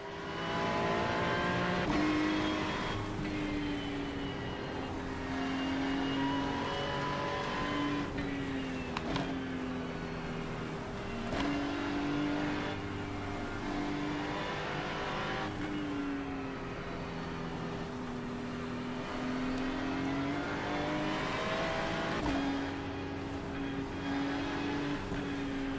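Race cars lapping the Nürburgring during a four-hour endurance race in iRacing, engines droning steadily with rising and falling revs as gears change, several cars whooshing past in a continuous loud mechanical roar without talk.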